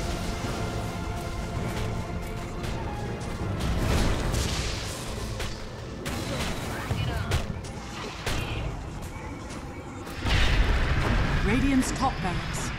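Explosions and crumbling blasts ring out as a barracks falls during a professional Dota 2 match between Team Liquid and Cloud9, dense with battle clatter under constant talk, with a heavy boom late on.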